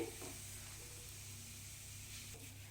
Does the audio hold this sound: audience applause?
no